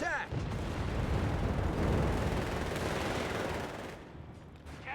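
A grenade blast in the World War II strategy game Company of Heroes 3 sets off a sustained, loud rumbling roar that fades over about five seconds, with brief talking at the start.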